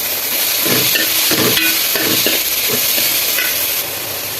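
Sliced onions with curry leaves fry in hot oil for biryani: a loud, steady sizzle and hiss fills the clip, broken by several scraping stirs of a spoon in the pan.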